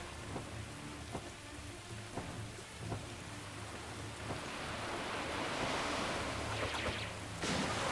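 A thunderstorm in the video game Krut: The Mythic Wings, with steady heavy rain and low rumbling thunder that swells louder toward the end.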